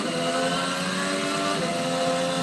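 A loud, continuous high-pitched engine whine from Formula 1 racing cars at high revs, steady and dense throughout.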